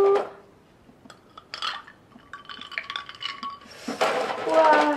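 Ice cubes are dropped into a glass of collagen drink, giving bright clinks and knocks against the glass. A louder clatter and swirl of ice follows near the end, close and clear with no speech.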